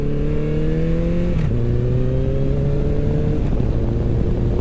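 A 2013 Honda CB1100 motorcycle engine drones steadily while riding, its pitch dropping with two quick upshifts done without the clutch, loud and close against constant wind rush.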